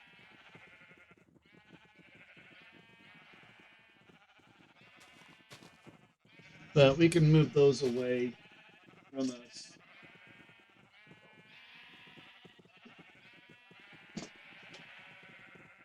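Sheep bleating in Minecraft, in a cozy Cottage Witch modpack: a loud burst of several overlapping bleats, then a shorter bleat a moment later, set against steady background music with a person talking quietly.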